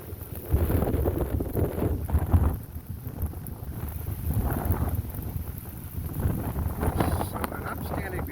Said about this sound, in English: It's so crazy windy.